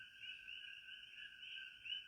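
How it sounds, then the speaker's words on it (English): Steady chorus of coqui frogs calling in the distance on Hawaii's Big Island, high two-note chirps repeating over a quiet night background, no voices. "You probably hear all the coqui frogs in the background here."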